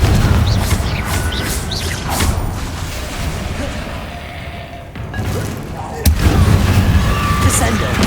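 Explosive Confringo spell blasts in Hogwarts Legacy combat, a run of booming, crackling impacts over dense battle noise, with a sharp loud burst partway through and voices talking around it.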